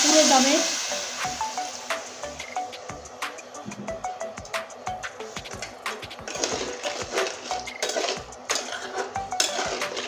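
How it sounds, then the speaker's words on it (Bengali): Vegetables with turmeric frying in a pan hiss and sizzle steadily after a little water is added, with scattered clinks of a spoon or spatula against the pan. No one speaks. "এবার অল্প পরিমাণে জল দিয়ে দিচ্ছি"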